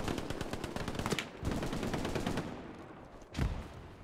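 Machine gun fire in the night battle of Sainte-Mère-Église in Hell Let Loose: rapid bursts of automatic shots, close and loud, broken by a couple of heavier booming reports and a short pause near the end.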